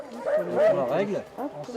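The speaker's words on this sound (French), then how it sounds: "les chiens nordiques sont de sortie" Nordic sled dogs at a dog-hiking outing yip and bark excitedly in a rapid, overlapping chorus close by, with talk mixed in.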